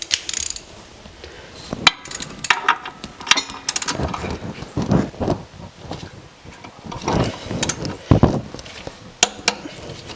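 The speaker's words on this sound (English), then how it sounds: "I've got the benefit of a torque wrench" A torque wrench tightens rear brake bolts on a Lexus LX470, with metallic ratcheting clicks, clanks of tools and sharp knocks in irregular bursts, close and fairly loud, with no talking.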